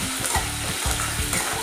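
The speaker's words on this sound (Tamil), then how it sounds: "வெங்காயம் வதங்கிக்கிது." Onions sizzling steadily in a hot pan for a dried fish curry, a loud, close, continuous fry with rhythmic stirring scrapes repeating about every half second.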